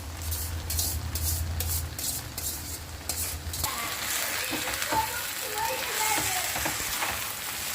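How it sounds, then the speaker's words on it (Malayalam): Strained noodles tossed and stir-fried in a hot pan for egg vegetable noodles, a steady sizzle with scraping stirs and light clatter of a utensil against the pan, close and continuous. "ഇനി ഇതിലേക്ക് നമ്മൾ അരിച്ച് വെച്ച നൂഡിൽസ് കൂടി ചേർത്ത് നല്ലതുപോലെ മിക്സ് ചെയ്ത് കൊടുക്കാം"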